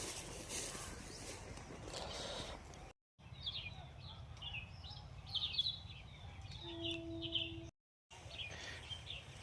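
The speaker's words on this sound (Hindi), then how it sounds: "यहाँ पे चिड़ियों की जो आवाज़ें हैं, चहचहाना, चिड़ियों का चहचहाना कितना सुकून देता है दिल को" Birds chirping in a village forest at six in the morning, light trills and tweets at a moderate distance over a low outdoor hum, broken by two brief silent gaps.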